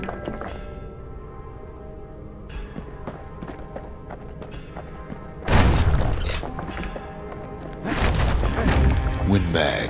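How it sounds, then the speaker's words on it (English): A shotgun in the action game Bastion fires heavy booming blasts over game music, with a big impact near the middle and another cluster of loud bursts toward the end. "Shotgun."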